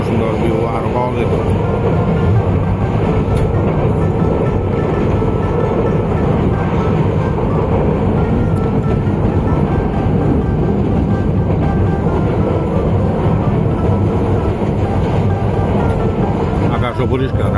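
Train running on rails near Mireshwara railway station, a loud, steady rumble and rattle of the carriages heard from inside the train, with talk over it.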